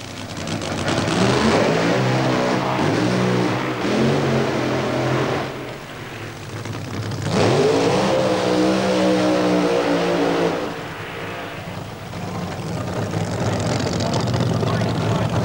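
Loud, close drag racing car engine at the 1993 Cannonball meeting at Santa Pod Raceway, roaring through a burnout in two long bursts with rising pitch and a brief dip between, a commentator talking over it.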